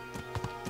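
A horse's hooves clip-clop in the medieval game Kingdom Come: Deliverance, with a few quick, close hoof beats over a faint steady background.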